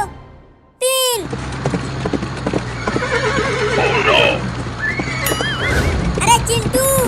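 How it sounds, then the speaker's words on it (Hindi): A horse in a race whinnies loudly and sharply several times, with hoofbeats running beneath in a continuous, close rush. "बाबू का घोड़ा तो पहले ही रेस में आगे हो गया"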